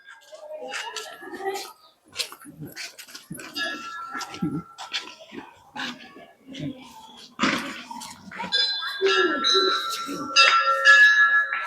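Temple bells at Jadeshwar Mahadev temple near Morbi and Wankaner ring out in repeated bright clangs, growing busier and louder toward the end, amid a festival-day crowd with people talking and a dog barking.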